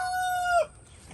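A rooster in a backyard chicken yard gives a single close, loud crow that ends abruptly, followed by a faint short cluck in the quiet after.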